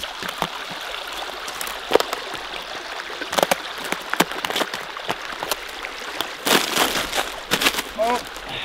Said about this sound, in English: Seems to be like a little dam right here, creating this little waterfall.